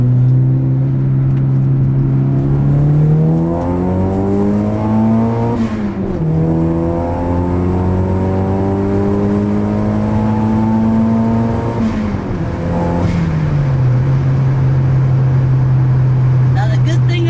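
A car's engine pulls hard up through the gears while merging onto a highway on-ramp, loud and close from inside the cabin, with rising engine tones that dip at each gearshift.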